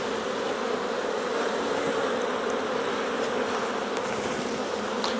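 Honey bees buzz as a dense, even drone throughout an open-hive inspection, close and unbroken, with no voices.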